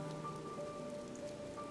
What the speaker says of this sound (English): Also, why is it raining here?